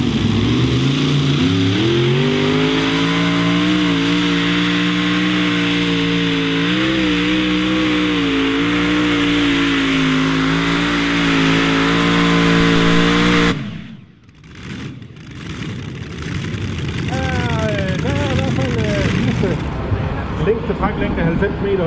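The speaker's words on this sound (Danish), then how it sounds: "V8, racermotor. Motorblokken er ren aluminium, der er ikke noget vand til." A V8 racing engine with a pure aluminium block and no water cooling, fitted to a 2500 kg light modified tractor-pulling vehicle, revs loudly and steadily at close range, cuts off sharply, then roars back up, with a voice talking over it.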